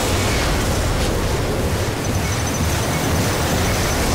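Rocket explosions in the video game RAGE, during The Scorchers DLC, form a dense, continuous roar of blasts and rumbling noise that stays loud throughout, with no talk.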